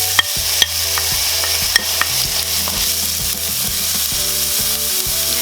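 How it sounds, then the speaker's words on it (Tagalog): Ginger sautés in hot oil in a pan, a loud continuous sizzle punctuated by sharp metallic scrapes and clacks of a utensil stirring against the pan. "Ngayong medyo mainit na po yung ating oil, pwede na nating unang gisahin itong ating luya."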